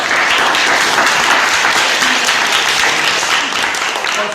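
Sustained applause from a crowd at a community school-supplies distribution event organised for children, a dense, steady clapping that holds evenly for about four seconds.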